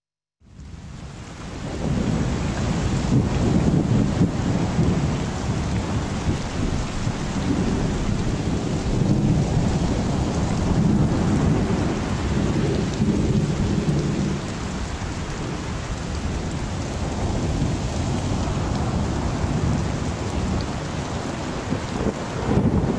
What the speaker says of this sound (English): suddenly a furious storm came up on the lake, so that the waves swept over the boat